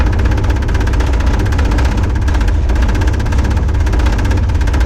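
An old barn-find Austin pickup engine runs steadily close by, a loud, even, low rumble with a fast regular beat and no change in speed, carburetor trouble suspected.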